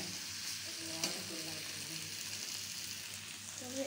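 Potatoes fry in masala and are stirred, giving a soft continuous sizzle with light scraping of the spoon, close and fairly quiet.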